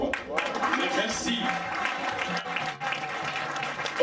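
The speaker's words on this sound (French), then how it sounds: "On applaudit très fort jusqu'il arrive à sa place." Crowd applause at an official event, a fairly dense patter of clapping with speech running over it throughout.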